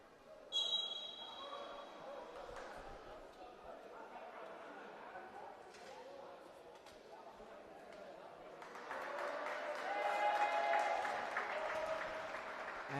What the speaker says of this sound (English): As you can hear the crowd cheering for him.